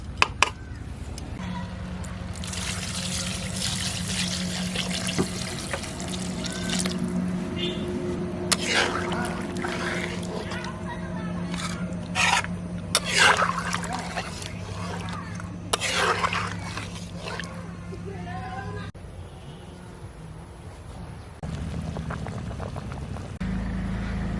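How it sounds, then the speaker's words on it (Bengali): Water is poured into a pan of red country chicken curry, a steady liquid splash and simmering bubbling that runs for a long stretch, with faint kitchen clatter. "এখন জলের জন্য জল দিয়ে দেবো"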